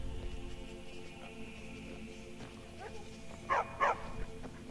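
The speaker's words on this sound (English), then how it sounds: "Bark, bark, bark." Dogs on Holly Frost Farm in a modded Skyrim game give two quick barks, close together near the end, over a quiet, steady farm ambience.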